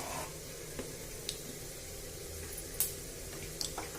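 Chana dal and urad dal sizzling in hot tempering oil for shavige bhath, a steady soft hiss with a few faint crackles and pops, close but quiet, no talking.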